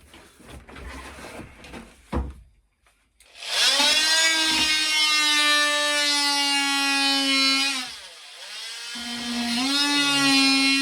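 A drill bores out timber around a shower hole in a narrowboat, a loud, close, high whining spin that runs for several seconds, dips briefly, then resumes, with quieter scraping and handling noises before it starts.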